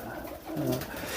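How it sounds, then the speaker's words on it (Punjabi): A red pigeon in a loft gives a single soft, low coo, close but quiet against a faint background hiss. "ਇਹ ਆ ਬੜਾ ਰੱਤਾ ਕਬੂਤਰ"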